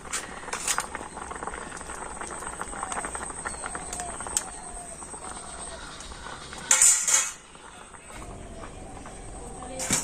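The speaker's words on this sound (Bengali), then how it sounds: "তো একে একে জল থেকে সমস্ত আলুগুলো আমি তুলে নিচ্ছি" Boiled potatoes lifted one by one out of hot water in a home kitchen, with soft splashes, faint clinks of a utensil against a pot and low background bubbling.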